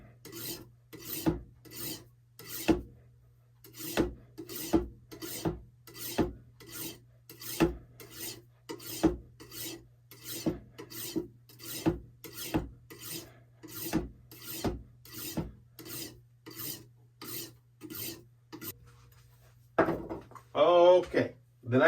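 Serrated knife sharpened with a sawing motion, a long series of rhythmic rasping strokes about one per second, close and distinct, followed by a brief scuffing noise at the end.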